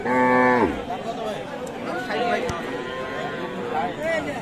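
A crossbred dairy cow gives a loud, long moo up close at a cattle market in Aftabganj, with lively chatter and people talking around it afterward.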